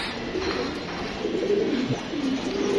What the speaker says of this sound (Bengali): এটা 3য় জোড়ার নর কবুতরটি।